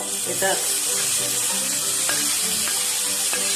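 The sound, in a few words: cooked beef sautéing in fried masala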